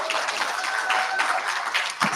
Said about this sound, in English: Please give them an absolute round of applause.